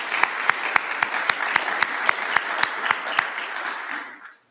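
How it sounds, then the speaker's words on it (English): Graduation audience applauding at a fire academy class graduation, a steady wash of many hands clapping with a few sharper claps standing out, fading away at the end. "give them a round of applause."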